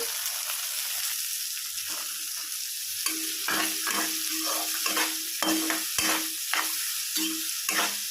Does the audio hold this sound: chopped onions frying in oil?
yes